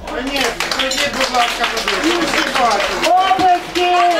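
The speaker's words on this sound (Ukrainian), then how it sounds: "Оплески! Оплески!" Wedding guests clapping at a reception auction, scattered hand claps mixed with loud, overlapping talk and shouting voices throughout, close and lively.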